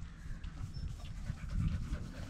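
A dog pants steadily outdoors while lying on grass beside a dog bed. The quick, rhythmic breaths sound close and moderately loud over faint background noise, with no talking.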